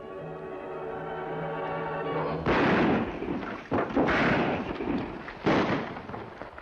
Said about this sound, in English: Gunfire, Kemosabe.